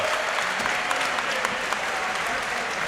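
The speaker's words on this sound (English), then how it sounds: "Burlington, clap your hands" Crowd applauding steadily at a Burlington combat-sports fight event, dense continuous clapping from a large audience filling the whole stretch at fairly loud level, with a few sharper claps standing out.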